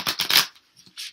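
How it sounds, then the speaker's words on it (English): Tarot cards being shuffled by hand: three quick riffling bursts, loud and close, then a short pause and one softer final shuffle, with no talking. "I do shuffle these prior, as you know."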